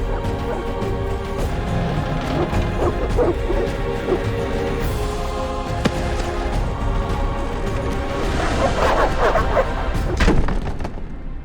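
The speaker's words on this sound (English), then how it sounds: "The dogs will tear her apart." Dogs barking and attacking in The Witcher video game: a dense, loud game soundscape with repeated barks, crashes and thuds running throughout, without clear gaps.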